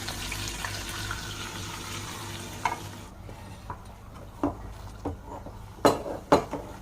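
Gravy goes into a pan holding a fried whole chicken for murgh musallam: a soft sizzle, then a quieter stretch of stirring with scattered clinks and scrapes of a utensil against the pan.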